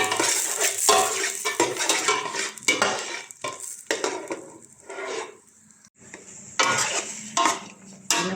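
Chicken wings sautéing in butter in a pan, with repeated scraping and stirring strokes of a utensil over a soft sizzle, close and fairly loud, in irregular bursts.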